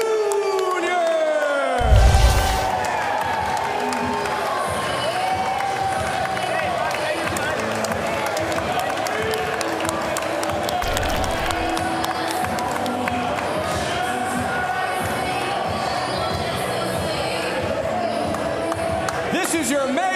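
Cheering fills the arena at an MMA event in Cincinnati as a large crowd roars steadily for the main-event fighters, with an announcer's amplified voice ringing over the noise and a loud burst near the start.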